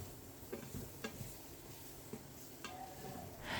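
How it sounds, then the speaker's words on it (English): Beef cubes stirred with plain flour in a pot for stew, frying with a soft sizzle while a spoon scrapes and taps the pot in a few distinct knocks, quiet and close, no talk. "Mix well and fry for 1 minute until aromatic."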